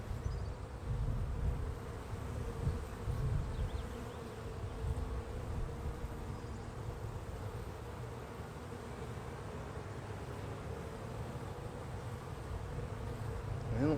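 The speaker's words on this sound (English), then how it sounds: "The bees are really calm." A dense, steady drone of many honey bees buzzing close by at an open hive, continuous and fairly loud throughout, with no voices over it.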